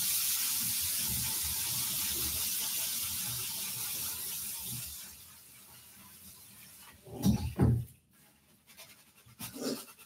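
Tap water runs steadily into a sink while lentils are rinsed, a continuous hiss that fades out partway, followed by a few louder clunks and handling noises near the end.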